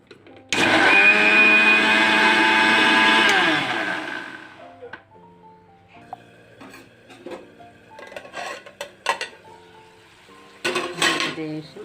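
A kitchen mixer grinder whirs loudly for about three seconds while blending curd, then winds down, followed by clinks and rattles of the jar and utensils being handled.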